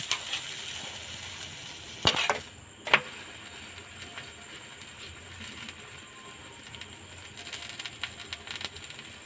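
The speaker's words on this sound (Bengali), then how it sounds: "এইভাবে প্রত্যেকটা পরোটাকে আমি ঠিক এইভাবেই ভেজে নেব" A sattu paratha fries in a pan with a soft, steady hiss. A couple of louder clatters come early, then a quieter sizzle carries on alone.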